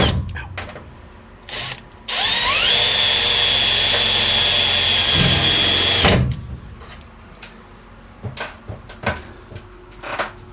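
A power drill drives a screw into a wooden shelf in one loud, close run of about four seconds, its whine rising slightly in pitch. Scattered knocks and clatter come before and after.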